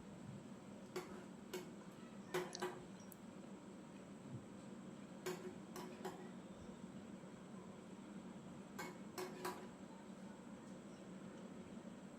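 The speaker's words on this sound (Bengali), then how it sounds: "এবার ঢাকনাগুলো এক এক করে পরিয়ে দিচ্ছি।" Lids fitted one by one onto plastic popsicle moulds filled with raw mango mixture: a handful of small clicks and ticks in pairs, faint against a steady background hiss.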